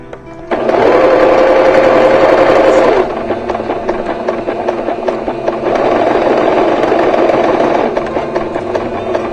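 A sewing machine stitches a patchwork block, a loud steady mechanical whir in two long runs with a brief change in pace between them, close to the listener.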